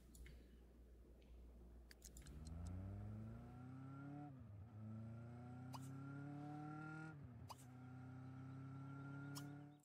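A car engine in a video game revs up from about two seconds in, climbing in pitch repeatedly with sharp gear-shift drops and occasional clicks, loud and steady with no talking.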